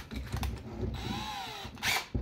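Battery-powered cordless drill running in a portable drill stand, a short whirring motor spin with a rising then falling pitch, close and fairly quiet, bracketed by brief handling knocks.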